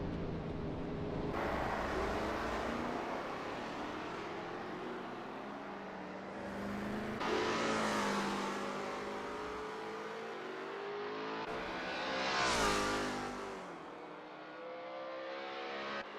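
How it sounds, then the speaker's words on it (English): A Lola T70 MkII Spyder race car engine in a racing video game at Imola, droning steadily with two swelling revving surges as it accelerates through the lap, with no voices. "That ASRL T70 MkII Spyder looks good driving through Castellaccio"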